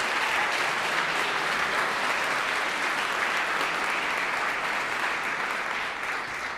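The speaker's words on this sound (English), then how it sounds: "Let's give them a round of applause." An audience at a keynote event gives graduate student finalist teams a sustained, dense round of applause that runs evenly throughout and tapers slightly at the end.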